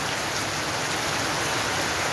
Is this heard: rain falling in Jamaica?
yes